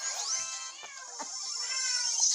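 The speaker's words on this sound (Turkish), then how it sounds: "Benden daha çok miyavlıyor lan kedi" A pet cat meows insistently in several drawn-out, high, wavering cries close to the microphone, running almost continuously with little pause.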